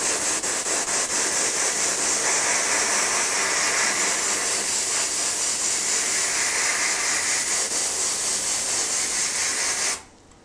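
Spray gun applying Cerakote coating inside a firearm receiver, a loud continuous close hiss of atomized spray lasting about ten seconds before cutting off abruptly, with no talking.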